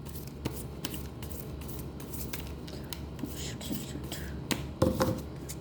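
Tarot cards being shuffled by hand, giving a string of crisp, close riffling snaps and soft rustles, with a louder burst near the end and a faint voice in the background.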